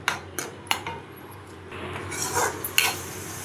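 A spoon scrapes and clinks against a pan while stirring garlic pickle cooking down in oil, with a few sharp metallic knocks and a low sizzle underneath, heard up close and without talking.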